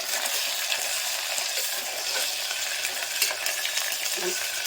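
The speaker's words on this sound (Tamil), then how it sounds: "கொஞ்சோண்டு இஞ்சி பூண்டு பேஸ்ட் போட்டு நல்லா வதக்கிடுங்க." Onions sauté in a pan with ginger garlic paste, giving a steady close hiss and crackle of frying with soft stirring scrapes throughout.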